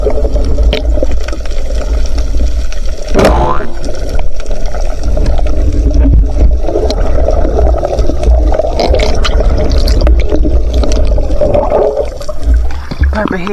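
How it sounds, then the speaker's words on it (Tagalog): A strong current of water rushing past steadily and loudly, with a wash of turbulent gurgling that fills the whole stretch, partly under a voice. "Medyo malakas na yung agos dito."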